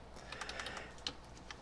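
Rapid, uneven keystrokes on a computer keyboard while a programmer writes a while loop, a quiet run of clicks with one sharper tap near the middle, alone with no talk.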